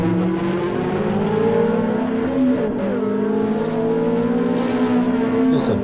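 Ferrari 360 engine on the Nürburgring Nordschleife, loud and steady close-up howl climbing through gears with brief dips at upshifts, no talk.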